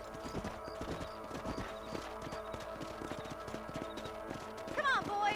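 Horse hooves clip-clopping steadily at a walking pace in Red Dead Redemption, a close rhythmic clatter under a man's speech, with a brief whinny near the end.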